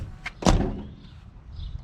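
Maroon truck door slamming shut and latching with a single solid thud, preceded by a small click, then quiet rustle.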